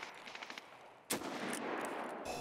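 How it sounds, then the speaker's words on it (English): Sharp gunshots burst out in the shooter game Escape from Tarkov, starting faint and scattered, then a loud crack followed by sustained rapid fire with a few further sharp reports. "we're getting shot at"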